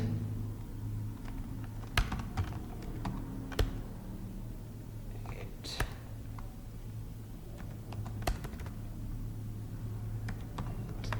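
Keystrokes tap on a computer keyboard as an Excel CONCATENATE formula is entered, irregular isolated clicks spread over a low steady hum, fairly quiet and close.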